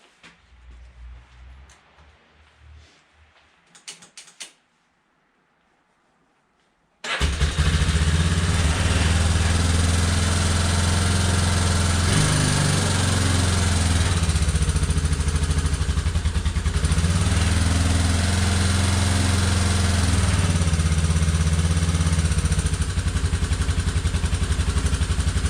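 Yamaha Big Bear ATV engine after a cam, timing chain and valve adjustment job, quiet handling noises, a pause, then the engine catches and runs at a loud, steady, close idle.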